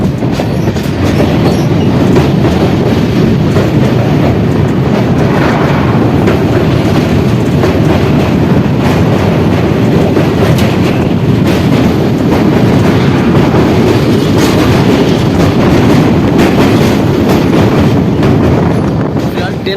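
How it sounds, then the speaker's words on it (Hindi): Garib Rath Express with new LHB coaches rolling into Hayaghat railway station, a loud, continuous rumble of wheels and carriages with steady clattering on the rails and wind buffeting the microphone throughout. "ट्रेन अपनी अराइवल हो रही है हाया घाट रेलवे स्टेशन पर।"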